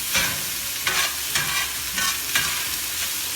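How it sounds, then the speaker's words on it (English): Rice frying in butter in a pan, crisping to golden: a steady hiss and sizzle with short bursts of stirring scrapes about every half second, close and fairly loud, no talking. "my rice is frying in the fat"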